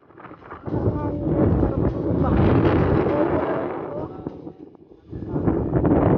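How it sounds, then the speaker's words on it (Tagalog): Strong gusty wind on a high cliff edge at Jebel Fihrayn, the Edge of the World near Riyadh, buffets the microphone in loud, deep rumbling surges that swell and fade over several seconds. "Bugso-bugso yung hangin."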